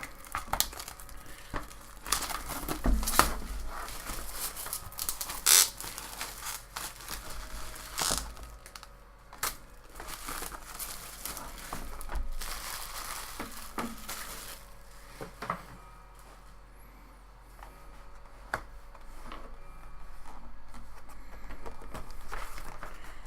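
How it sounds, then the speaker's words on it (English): Cellophane wrapping pulled off a Tim Holtz stamp platform package, close crinkling and crackling with sharp tearing snaps scattered irregularly throughout. "Got some cellophane here to pull off of it."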